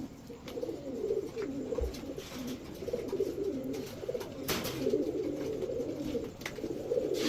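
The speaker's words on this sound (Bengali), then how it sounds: "ইন্ডিয়ান হাইফ্ল্যান নাপ্তা কবুতর" Indian high-flyer pigeons at a pigeon seller's, soft repeated cooing calls in a steady low murmur, fairly close, with faint background noise.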